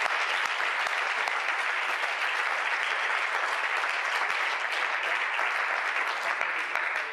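Sustained applause from a church congregation, a dense, steady wash of clapping that holds evenly throughout without pause.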